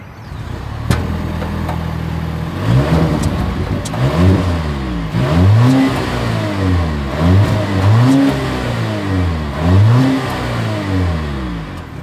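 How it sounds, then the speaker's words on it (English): Dual exhaust of a 2025 Volvo S90 revved repeatedly while parked, with a steady idle broken by a series of loud, close rising-and-falling engine blips in a regular rhythm. "As always, here is that exhaust clip."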